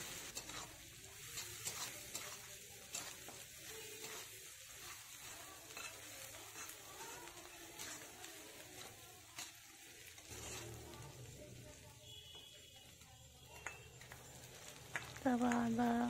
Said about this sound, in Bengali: পেঁয়াজটাকে ভাজা ভাজা করে নিতে হবে।